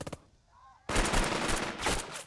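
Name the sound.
gunfire in Burden of Command video game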